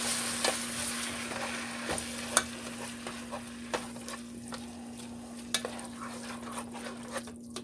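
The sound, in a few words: stirring diced tomatoes in a pot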